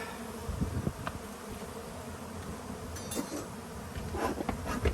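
Honey bees swarming around an open hive during brood box work, a dense close buzzing hum with wind noise and a few rustles.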